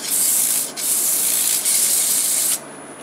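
Sandpaper hisses steadily against a wooden ornament spinning on a lathe, a loud, close, continuous abrasive rush that dips briefly twice before dropping to a quieter hum.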